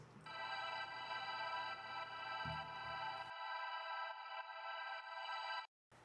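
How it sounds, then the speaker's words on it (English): A steady, dense pad built from the stretched reverb tail of bells drones continuously, thick and full at first, then thins to a brighter, airier sustained layer before dropping out near the end. "I turned this tail of the reverb into a sort of pad that plays through and through the entire track"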